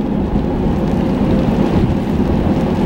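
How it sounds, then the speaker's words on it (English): Steady rain pours outside with low rumbling thunder on a cool 43-degree day, a continuous dense wash of patter and rumble filling the space with no talk. "It's raining right now."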